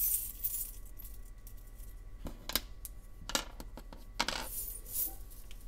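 Small metal charms are picked up and handled, giving several bright, close jingling clinks in short bursts over quiet room hiss.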